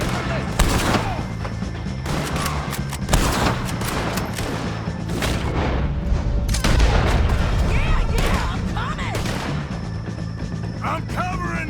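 Gunfire in a Red Dead Redemption II shootout against O'Driscoll gang members: loud, repeated rifle and pistol shots in irregular bursts with heavy booms, continuing throughout over game ambience and shouted voices.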